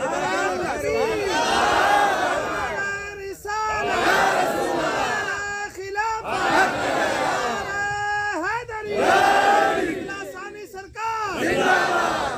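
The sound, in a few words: crowd chanting religious slogans at a gathering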